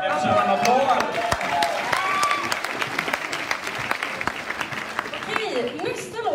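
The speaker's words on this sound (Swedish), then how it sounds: "Jag kör en applåd!" A concert audience at a school arts performance breaks into steady, dense applause, a continuous patter of many hands. Voices and cheering ring out over the clapping, loudest at the start and near the end.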